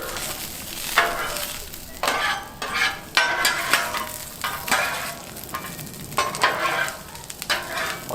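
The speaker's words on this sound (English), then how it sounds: "let it sit for about 2 minutes and then give it a good stir" Mushrooms frying in oil on a Blackstone griddle, a steady sizzle broken by repeated scraping stirs of a spatula, close and loud with no talk.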